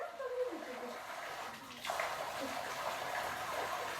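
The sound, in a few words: cold water flowing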